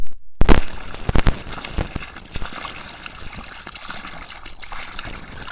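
Water from a 375-watt solar-powered pump flows and trickles steadily out of a pipe in overcast conditions, a close, continuous splashing stream after a brief silent start, with a few louder gushes early on.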